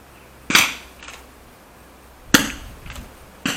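Rifle shots at a prone shooting competition: three sharp, loud reports spaced a second or two apart, each with a brief echo, plus fainter distant shots from neighboring firing points, with no talking.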